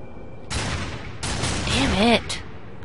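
Gunfire in the Darksiders 2 video game comes as two loud, sustained bursts of rapid shots separated by a short gap, with a brief tonal effect sounding over the second burst.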